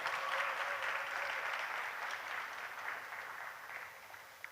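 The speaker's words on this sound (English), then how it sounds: "Give Ms. Freeman a round of applause again, please." Audience at a primary school graduation ceremony applauds warmly in a steady, even wash of clapping that gradually tapers off.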